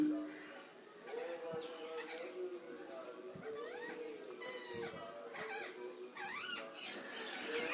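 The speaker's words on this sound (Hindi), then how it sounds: "देखिए तोते आ गए हैं और सबके सब कथा सुन रहे हैं।" Parrots chatter at a religious storytelling gathering, with squeaky, whistling calls and rising chirps that keep going under steady talk, fairly close and moderately loud.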